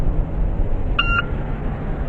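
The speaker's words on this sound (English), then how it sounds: "I cut exactly the beep out of a loud street in Los Angeles and just got this." A single short electronic beep taken from a loud Los Angeles street, a clean tone lasting about a quarter second over a constant low rumble of traffic noise.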